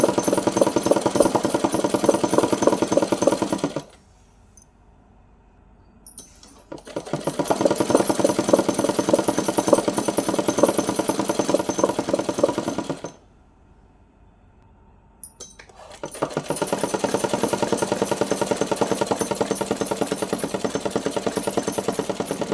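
A sewing machine stitches doubled plain cotton cloth in loud, fast, steady runs, pausing twice for a few seconds of near silence before starting up again.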